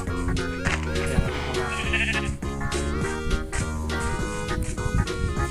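Sheep bleat repeatedly in the Minecraft video game, several close, loud calls overlapping over a steady background of game music with no talking.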